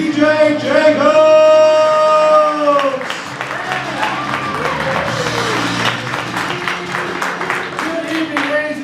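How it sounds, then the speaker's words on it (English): An audience at the Go Comedy improv show Pandemonia breaks into a dense burst of applause welcoming the host, loud and sustained after a short musical opening. "Give a round of applause for your host, PJ Jacobs!"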